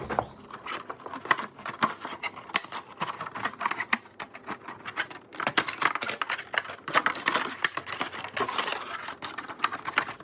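Scissors snip through paper for a craft cutout in a rapid, irregular run of close, crisp clicks and crunches with short pauses, fairly quiet and with no talking.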